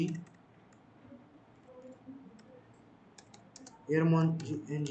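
A computer keyboard is typed on, entering the airmon-ng command: scattered quiet key clicks give way to a brisk cluster of taps near the end, with soft voice sounds under it.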